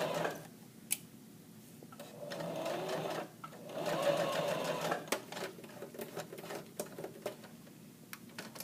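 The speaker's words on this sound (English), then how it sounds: "I'm just going to do a quick baste at maybe about 1/8 of an inch away from the edge of the fabric" A sewing machine bastes knit fabric near the edge in loud, close bursts of rapid stitching, with short pauses and scattered clicks between runs.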